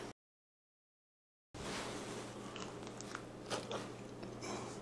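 Air-fried buffalo hot wings, cooked from frozen and sauced, are bitten into up close after a brief silence, giving several soft crunchy bites and chewing sounds over a steady low hum.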